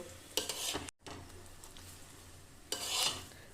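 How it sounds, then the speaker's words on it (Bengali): Methi paratha frying in a small amount of oil on a hot pan, a close crackling sizzle with a couple of louder bursts as it is moved or pressed, briefly cut off by a gap. "আমি এখন পরোটাটাকে গরম গরম ভেজে নেব"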